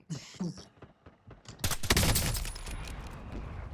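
Gunfire in an online shooter game, with a mortar hit just before: sharp scattered shots, then a loud dense burst of firing and explosion that rings into a rumbling tail, with a voice briefly underneath.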